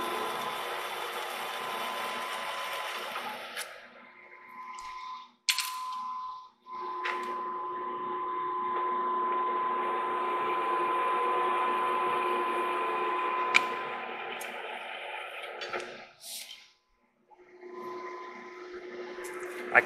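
A clutched lathe runs with a steady mechanical drone and faint whine, interrupted by brief pauses and changes as it is engaged and stopped, in a heavy-equipment shop doing line boring on a Case tractor part.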